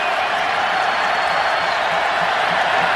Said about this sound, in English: Crowd is jumping here in Auburn.